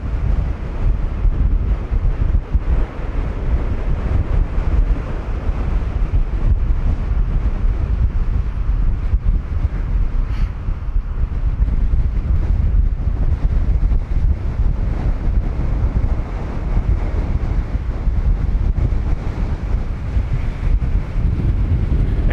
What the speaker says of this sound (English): It's wild and windy.